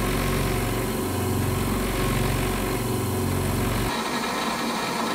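A lathe runs at 1000 RPM with a steady mechanical drone and rhythmic hum that cuts off abruptly near the end, leaving lighter machine noise.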